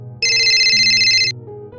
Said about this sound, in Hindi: फोन की घंटी बज उठी।